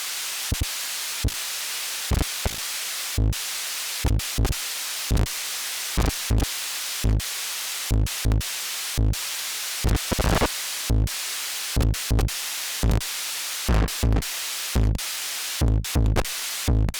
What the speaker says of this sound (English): I'm going to just turn down the threshold and slowly reveal the drum beat from the noise